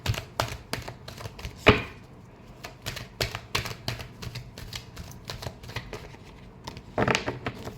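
Tarot cards are shuffled by hand in a quiet room: a run of sharp, dry flicks and riffling taps, with one louder snap and a dense burst near the end.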